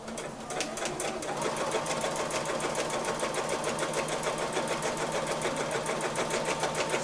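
A household sewing machine runs a straight stitch through fabric, a fast, even mechanical whirr with rapid needle clatter, steady and close for the whole stretch, no voices.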